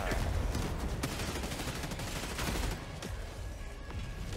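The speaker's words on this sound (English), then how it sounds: "Oh, it's a turret." Turret in Helldivers 2 firing sustained rapid bursts, sharp cracks repeating over a noisy battlefield background, somewhat distant and fairly loud.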